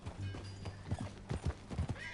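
Horse hooves clip-clop in Red Dead Redemption 2, a quick run of close, distinct hoofbeats in an uneven walking rhythm over a low steady hum.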